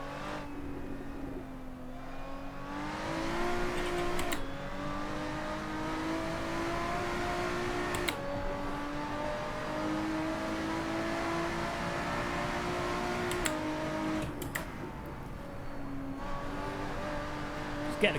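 Race car engine in the Assetto Corsa racing game drones steadily throughout, its pitch rising and falling through gear changes and corners, with a few sharp shift blips along the way.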